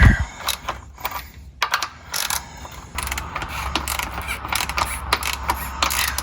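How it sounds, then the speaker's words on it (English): Ratchet with a 17 mm socket loosening the oil drain plug on a 2008 Ford F-150 truck, a steady run of close mechanical clicking in irregular bursts, with no talking. "So this is a 17-bit ratchet here."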